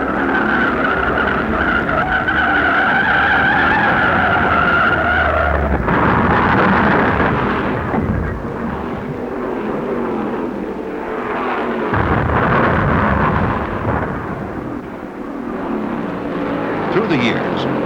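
NASCAR stock cars thunder past at high speed with loud, continuous engine roar, then screeching skids and crashing impacts as a chain-reaction wreck unfolds, dense and harsh throughout.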